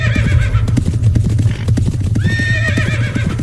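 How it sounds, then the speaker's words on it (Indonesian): Horses neigh and whinny with rapid clip-clop hoofbeats as they gallop around a house, loud and close, with repeated whinnies over the pounding steps. "mendengar ada suara kuda lari-larian mengelilingi rumah mereka"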